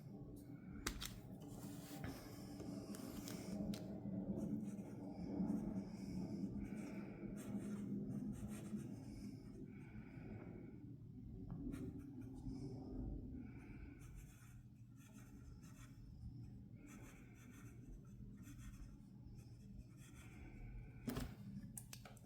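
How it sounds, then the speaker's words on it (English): Lamy fountain pen nib scratching across paper in a quiet room, soft continuous strokes with small taps and pauses, close and faint, with no talking. "let me do a quick writing sample."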